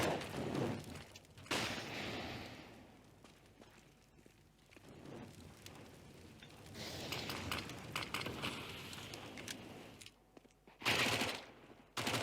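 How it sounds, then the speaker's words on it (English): Rapid bursts of M4 rifle gunfire in a Counter-Strike match on Dust2, mixed with other weapon fire and footsteps, loud in clusters with brief lulls between exchanges. "Finally falls to Calyx with the M4"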